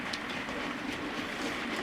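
A 2-6-4 tank steam locomotive, number 80120, heading north past a station with its train, a steady broad rumble of wheels and carriages at moderate distance, continuous and unbroken.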